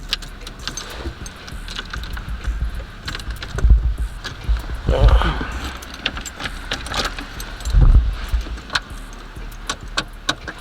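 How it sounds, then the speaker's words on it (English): Keys jingle and clink close by in repeated bursts, with rustling handling noise and a few soft thumps underneath. "Let me see if I got my key on me, and I do."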